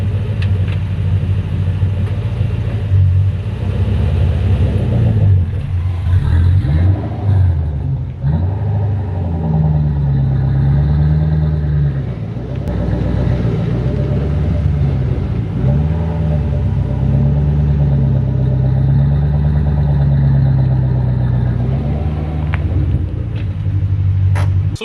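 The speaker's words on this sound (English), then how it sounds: "Try to ignore the exhaust notes." Exhaust from an SN95 Mustang Cobra rumbles loudly and steadily as the car rolls back and forth, its low note swelling and dipping in pitch, with no talk over it.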